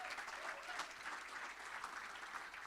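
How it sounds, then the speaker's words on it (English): Steady applause from an audience during introductions of team members on stage, continuous dense clapping throughout with no voices standing out. "Give him a big round of applause"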